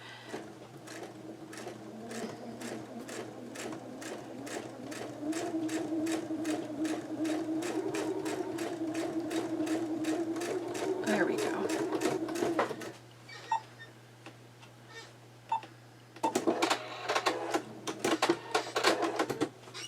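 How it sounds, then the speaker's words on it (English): Turned down to a lower speed, a sewing machine stitches a quilt seam in a steady, moderately paced run that stops abruptly, followed by a few clicks and then another short, choppy burst of stitching. "I'm wondering if my machine, if I turn the stitching speed down."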